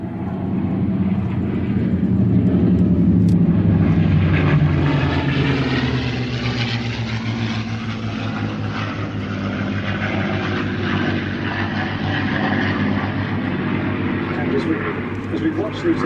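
A P-51 Mustang warbird's propeller engine roars loud and steady as it rolls for take-off at Duxford, a deep continuous drone with a commentator talking over it.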